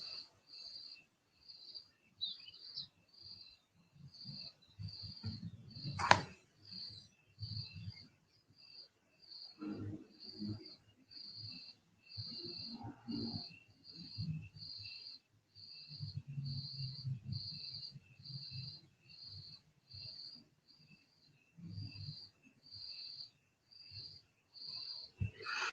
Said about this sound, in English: Lots of frogs, and they really, really do croak.